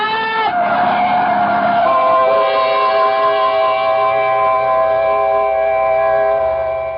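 A truck skids toward a woman in a radio drama sound effect, a long, loud tire screech that holds steady and sustained for several seconds after a sudden onset.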